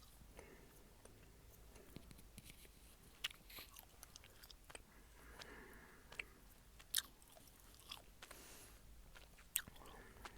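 Blueberry Trident gum being chewed close to the mic, soft wet smacks and clicks in an uneven rhythm with a few sharper crunchy snaps, quiet overall.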